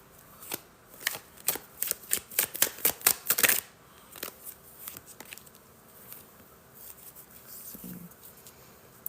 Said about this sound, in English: I've been shuffling some cards